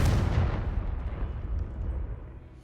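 A Confringo blasting spell explodes in Hogwarts Legacy, one heavy booming burst at the start that rumbles and slowly fades away.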